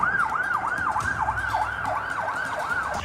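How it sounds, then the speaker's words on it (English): A police car siren wails in a steady rapid up-and-down yelp, fairly close, over a low rumble of road traffic. "Did I just hear a police car?"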